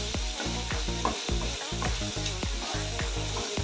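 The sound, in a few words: mutton pieces sautéing in hot oil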